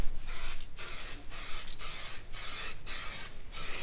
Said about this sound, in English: you can buy a proper guide coat stuff, like powdery stuff you put on, or some black spray paint